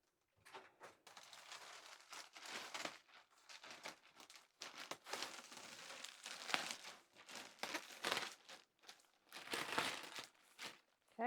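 Plastic wrapping on a new RV mattress crinkles and rustles in long bursts, close by, with short pauses between stretches of handling.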